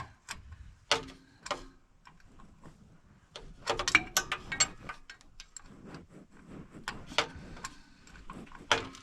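A socket wrench turning a bolt on the transmission of a 1978 Dodge Diplomat, heard as sparse, uneven metallic clicks and ratcheting ticks with knocks and pauses, fairly quiet and close.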